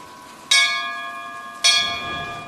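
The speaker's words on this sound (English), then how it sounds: "You know, you rang the bell and lights showed up." A bell in Bioshock Infinite is struck twice about a second apart, each a bright, clear clang that rings on with a sustained decaying tone.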